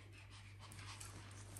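A dog pants close by in fast, steady breaths against a constant low hum, fairly quiet, with no talk over it.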